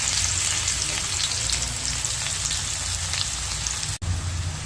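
Garlic sizzles in coconut oil on a hot tawa, a steady dense crackling hiss that runs close and loud throughout, broken only by one sharp momentary dropout near the end.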